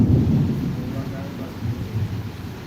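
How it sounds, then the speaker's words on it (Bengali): Heavy rain hisses steadily while deep thunder rumbles low underneath, swelling and fading. "বাইরে মুসুল ধারে বৃষ্টি হচ্ছে"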